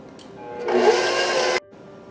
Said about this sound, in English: we'll come back as soon as that is done mixing